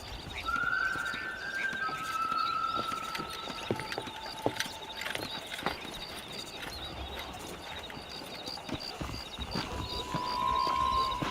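Horse hooves clip-clop steadily in the Red Dead Redemption video game while herding cattle to pasture, a continuous gallop under a game ambience with occasional tonal cues and no talk.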